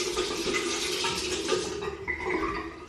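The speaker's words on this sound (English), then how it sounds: "And now I'm going to rinse it off with the hot cloth." Water running and splashing close by while a face is rinsed with a hot cloth, a steady wet rush with small swishes throughout, no talking.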